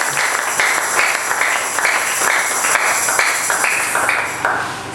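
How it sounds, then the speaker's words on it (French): Church congregation applauding during a French-language sermon, a steady dense wash of many hands clapping throughout, loud and close with a slight rhythmic swell, fading a little at the end. "Applaudissez pour le Seigneur."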